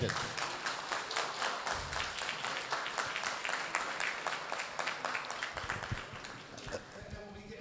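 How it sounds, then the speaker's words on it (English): Audience at a Westway Trust annual general meeting gives a round of applause, steady clapping from a moderate crowd that runs the whole stretch, fairly even in level, with a voice briefly audible near the end. "we want to give them a hand of applause for a best AGM ever I attended"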